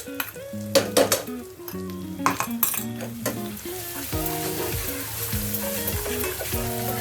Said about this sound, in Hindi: देखिए थोड़ा सा भुनना है।